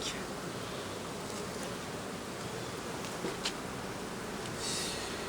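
Honeybees swarm and buzz steadily around an opened beehive during a hive inspection with supers being rearranged, a dense continuous drone close by with occasional louder passes, no talking.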